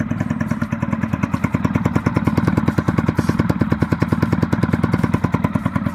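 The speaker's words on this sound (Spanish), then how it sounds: "Así arranca." A motorcycle engine runs steadily just after starting, a fast even putter of firing pulses, close and loud for the whole stretch with no talking.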